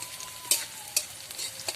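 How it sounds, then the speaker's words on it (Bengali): Onions fry in a pan for an egg and paneer kosa curry, giving a steady close sizzle broken by a few sharp scraping stirs of the spoon, with no voices. "আমার পেঁয়াজটা একদম ভালো করে ভাজা ভাজা হয়ে গেছে"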